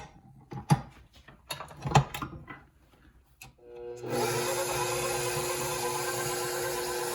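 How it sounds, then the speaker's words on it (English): Stand mixer with a dough hook working butter roll dough starts up after some clunks and knocks, settling into a steady, fairly loud motor whir with a rhythmic mechanical churn. "I'm going to throw all that right into our handy dandy mixer here with our dough hook attachment."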